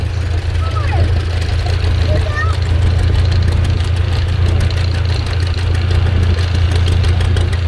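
A John Deere B tractor with a three-bottom plow running at a plow day, a steady loud low engine chug with continuous outdoor noise throughout.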